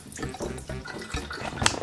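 Water running and splashing into the filler opening of a wallpaper steamer's tank, a close, steady tap-like flow with gurgling bubbles that grows louder near the end.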